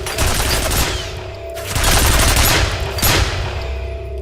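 Dense, loud gunfire aimed at a ceiling-mounted gun in the video game F.E.A.R., sustained rapid bursts with brief dips between volleys.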